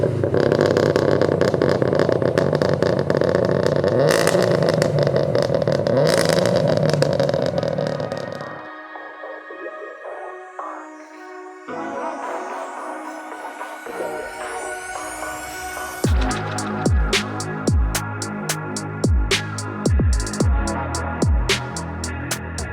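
A 488 bhp Subaru WRX STI engine drones loudly at first, then drops away before sharp revs and pops rise again in rapid bursts, close and harsh.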